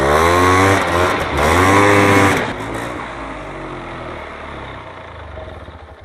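A 1999 Polaris Scrambler 400 ATV engine runs close by, loud and buzzy, revving briefly twice before dropping to a rougher, quieter idle.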